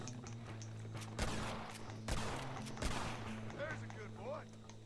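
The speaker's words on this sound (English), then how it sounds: "Man, he's taking some shots." Gunshots in Red Dead Redemption, three loud sharp cracks spaced about a second apart over a steady game hum, followed by a few short chirpy sounds.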